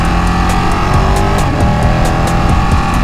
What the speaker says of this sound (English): that unmistakable Ducati sound, that V-twin gurgle